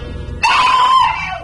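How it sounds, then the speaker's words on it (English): A woman gives a single loud, shrill scream in an old-time radio detective drama. It breaks in abruptly after a low rumble and holds for about a second before it fades. "The scream pulled Groves' eyes off me just long enough."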